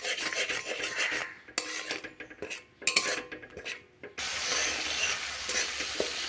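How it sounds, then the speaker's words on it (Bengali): Ground cumin, coriander powder and chili powder with green chilies scraped and stirred in an oily pan for a fish curry, a close, steady rasping with a few clinks of the utensil and brief pauses, then a continuous scraping sizzle. "এখন মশলাগুলো ভালোভাবে কষিয়ে নেব।"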